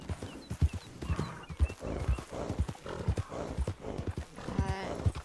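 A small horse walks with a steady, even clip-clop of hooves close by, with a brief whinny partway through.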